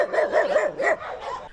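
Dogs at an animal shelter in Zemplén bark in quick repeated bursts, close and loud, with yips and whimpering tones between barks and no speech.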